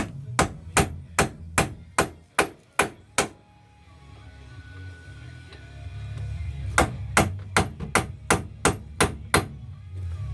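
A hammer strikes an Audi A4 wheel hub in two quick, evenly paced runs of sharp, ringing metal blows, separated by a few seconds of quieter clanking and hum.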